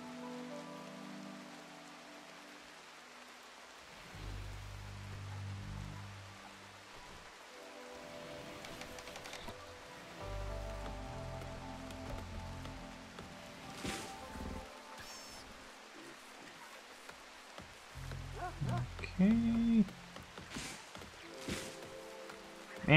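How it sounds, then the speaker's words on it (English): Steady rain falling in the RimWorld video game, a soft continuous patter with faint scattered steps and small sounds over it, with no talking. "Man, it's raining a lot here."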